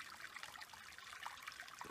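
Creek water trickling steadily at Fresno Creek in the Big Bend backcountry, a soft continuous bright wash of flowing water heard close by with no voices.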